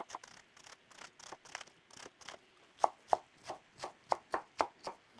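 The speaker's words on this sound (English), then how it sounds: "we're gonna shred up some cabbage" Half a cabbage shredded with a knife on a cutting board, a run of about twenty evenly spaced crisp chopping strokes that grow louder and sharper toward the end, close up and alone without speech.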